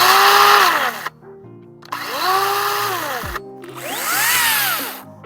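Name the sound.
Makita 18V brushless 14-inch cordless chainsaw running and braking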